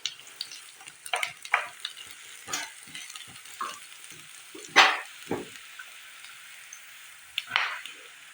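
Large-cut onions fry in a kadai, a steady soft sizzle broken by repeated scraping stirs of a spoon against the pan, close and moderately quiet with no talk.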